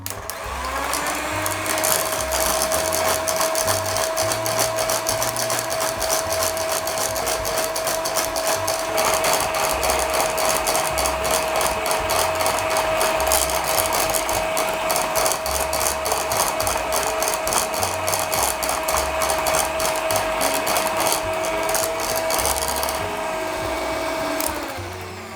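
An electric hand mixer whirs loudly and continuously while beating egg yolks for tiramisu, a steady high motor whine with rattling against the bowl for about twenty-five seconds, with soft music underneath.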